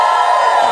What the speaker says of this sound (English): On the count of 3, give me a woo